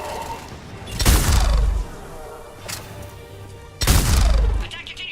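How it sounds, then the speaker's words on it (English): A heavy hand cannon pistol fires in Mass Effect 3 as two loud, booming shots a few seconds apart, each with a long rumbling tail, plus a fainter crack between them over steady game ambience. "this is a hand cannon that speaks with some gravitas right here"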